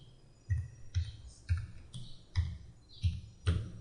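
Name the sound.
typing on a computer keyboard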